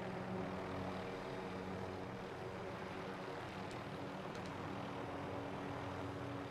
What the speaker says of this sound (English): Somebody grab the chopper.